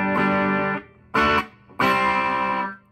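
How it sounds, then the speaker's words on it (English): A Gretsch G2215 guitar played through a Boss Katana amp on the crunch channel, EQ flat with a little reverb: three sustained, lightly distorted strummed chords, each ringing out and then cut short, with no voices. "That's the sound of the amp and the guitar."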